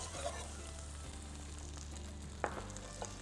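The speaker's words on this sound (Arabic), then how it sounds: "بننزل الثوم على الزبدة، طبعا ثوم مدقوق او ثوم مفروم ناعم كتير" Crushed or finely minced garlic sizzles gently in melted butter in a pan, a quiet steady fry under a low hum, with one brief utensil clink near the end and no talking.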